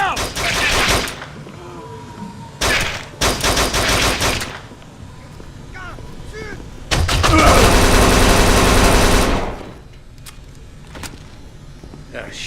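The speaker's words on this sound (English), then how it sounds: "They shot Tommy." Video game gunfire rings out in three loud, rapid bursts with quieter stretches between them, and voices can be heard in the background.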